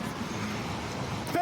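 A car engine idles and rumbles steadily up close during a police traffic stop, with road noise around it and shouted voices over it.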